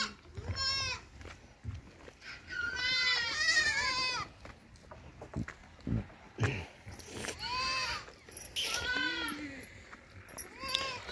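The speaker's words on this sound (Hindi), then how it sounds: "अरे ओए राज, अरे वो बकरी पेंट खा रही है" Goats bleat repeatedly on a farm, with several loud, close calls spread across the clip and short pauses between them, plus brief handling noises and a human voice in the background.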